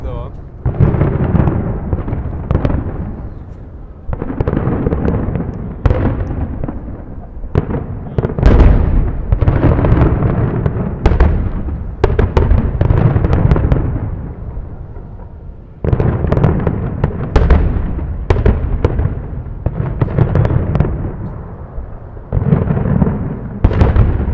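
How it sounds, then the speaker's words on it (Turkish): Fireworks at an outdoor display in Russia, heavy booming bursts and crackling pops in dense irregular volleys for over twenty seconds, loud and close, with a short lull partway through. "Havai fişekler eşliğinde biz devam ediyoruz arkadaşlar."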